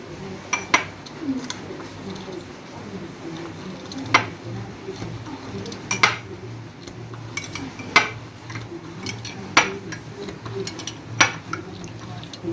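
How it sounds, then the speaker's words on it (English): Eggs being beaten in a bowl for a bacon egg sandwich, giving sharp clinking taps of utensil against the bowl at an uneven pace over a steady low background hum. "Start by beating up our eggs."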